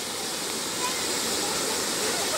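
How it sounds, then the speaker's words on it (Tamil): Lake water at Thaiyur Lake spilling over and falling down, a steady loud broadband rush like a small waterfall, continuous and close, with no clear speech on top. "சூப்பராக தண்ணி ஃபுல்லாக ஓவராகி கீழே வந்து"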